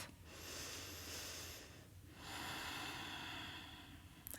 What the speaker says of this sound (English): take a few more breaths here